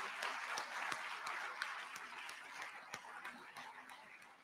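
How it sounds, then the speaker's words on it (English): A standing ovation for lecturers at a medical and dental practitioners' induction ceremony: a large crowd claps steadily in a dense, even patter that gradually thins, heard from within the hall with a few scattered sharper claps. "can you join me with a standing ovation and a round of applause?"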